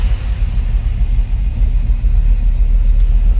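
A 1934 Ford Model 40 five-window coupe with a 327 V8 and turbo hydromatic 400 automatic runs after a cold start, giving a steady, deep, close rumble with no talking.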